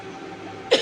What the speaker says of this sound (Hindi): माफ़ करना गाइस, खांसी बहुत हो गई है